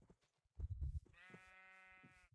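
Minecraft sheep give a single drawn-out, nasal bleat, faint and close, followed by soft game sounds with no talk.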